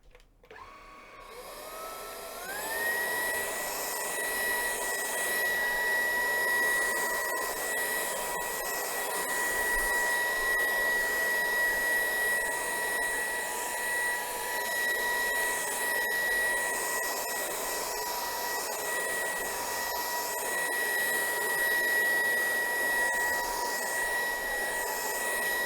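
A BVILY cordless vacuum cleaner runs in turbo mode, a loud, steady high-pitched motor whine close by that spins up within the first seconds and holds for the rest of the time.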